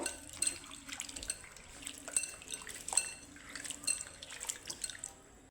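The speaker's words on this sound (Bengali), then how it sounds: "আলুর খোসা ধুয়ে নিব ভালো করে জল দিয়ে দু তিনবার পাল্টে পাল্টে ঘষে ঘষে ধুয়ে নিব" Potato peels are rubbed and rinsed in water, close splashing and dripping with sloshing, gurgling sounds running steadily throughout, with no talking.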